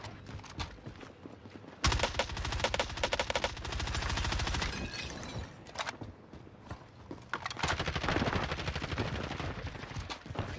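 Rapid automatic gunfire in a Call of Duty match, a loud sustained burst of close shots followed by scattered further volleys and pops, with little talk.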